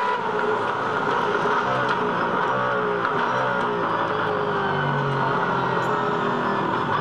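A V8 Supercar race car at the 2011 Darwin Triple Crown accelerates through the gears, its engine a loud, steady drone that holds for the whole stretch without pause.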